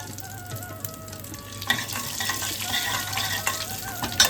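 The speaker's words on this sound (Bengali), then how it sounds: "জিরে, শুকনো লঙ্কা, তেজপাতা আর হোল গরম মশলাটা ফোড়নে দিয়ে দিলাম।" Cumin, dried chilli, bay leaf and whole garam masala dropped into hot oil for tempering, with a faint hum at first, then a sudden burst of crackling sizzle that continues with stirring scrapes and a final clatter.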